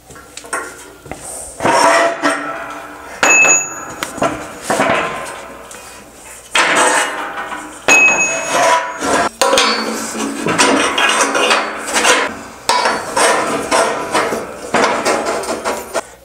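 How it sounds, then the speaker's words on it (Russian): Steel crossbar of a homemade workshop press being lowered into its lowest hole, heard as loud close metallic clanks, scrapes and knocks in irregular bursts with brief pauses. "давайте опустим поперечину в самое нижнее отверстие"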